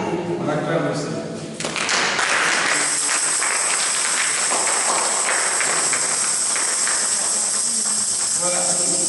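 Church congregation cheering and applauding together, a dense steady wall of claps and shouts that swells after a brief voice and stays loud throughout.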